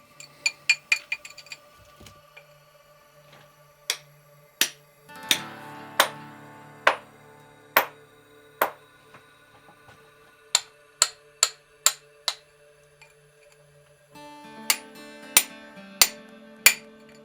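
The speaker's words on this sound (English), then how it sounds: "miners still use simple tools like a chisel and hammer to extract ore" Miners in a colonial-era silver mine strike ore with a chisel and hammer, sharp metallic clinks ringing out in quick bursts and single spaced blows, close and clear against a quiet background.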